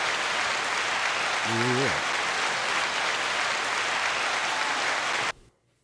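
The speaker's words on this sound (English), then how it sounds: "9 second applause" Loud, dense audience applause fills the room for about five seconds, with a brief vocal whoop rising over it before the clapping cuts off abruptly into near silence.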